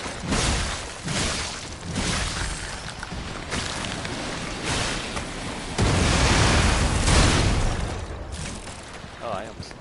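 Torpedo blasts in the game Lies of P, a dense run of heavy booming explosions rolling one into another for several seconds, loud and close, with a bigger burst partway through.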